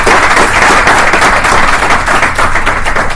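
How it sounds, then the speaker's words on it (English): A large audience at an evening panel discussion breaks into loud, sustained applause, dense and steady clapping filling the whole stretch with no voices over it. "giving them a warm round of applause and thanking them."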